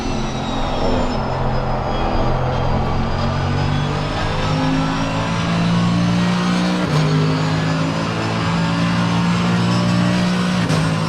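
A race car in the Assetto Corsa Competizione racing game at Donington roars loudly past, with engines droning steadily throughout and a pitch-shifting pass in the middle, no talking.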